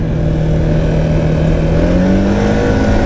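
Can-Am Outlander 700 ATV engine accelerating, loud and close, with a steady roar whose pitch rises smoothly as it revs up, alone without talk.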